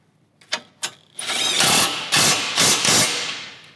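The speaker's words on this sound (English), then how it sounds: "what I wanna do is grab an 18 and we're gonna tighten that in and pull all that up on these pedestals" A hand ratchet with an 18 socket tightens the bumper mounting bolts of an Ironman 4x4 Raid front bumper on a RAM 1500 DS: two sharp clicks, then rapid continuous ratcheting in several close, loud bursts.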